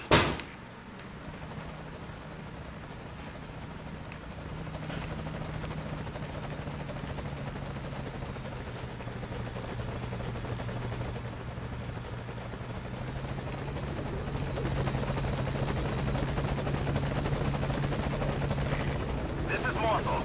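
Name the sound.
helicopter arriving at landing zone in video game Metal Gear Solid V: Ground Zeroes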